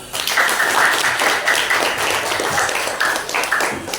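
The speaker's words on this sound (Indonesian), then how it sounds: "tepuk tangan buat kita semua" Pupils applauding together in a school classroom after a game, steady, dense clapping close by that fills the whole stretch at fairly high volume.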